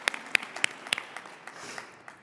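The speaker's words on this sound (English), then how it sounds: "Yes, you should applaud." Audience at a gala speech clapping, a few sharp, distinct claps up front that soften into scattered, thinning applause as it fades out.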